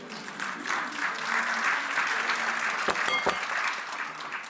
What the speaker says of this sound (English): Name any other show in America where you could just say garlic and people would give you a round of applause